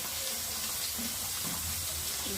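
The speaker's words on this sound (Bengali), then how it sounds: "শাকটাকে ধুয়ে নিচ্ছি" Tap water running steadily over leafy greens being washed in a kitchen, a close, continuous splashing stream with faint sizzling in the background and no voices.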